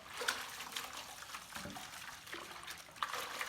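Buffing and polishing pads being rinsed in a bucket of water give off a near, steady wet sloshing and splashing, with small spikes of dripping and squelching and no talk.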